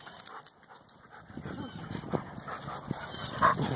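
A young dog shuffles and makes soft whimpering sounds up close, with faint pattering movement and a brief higher yelp near the end, while a person talks alongside.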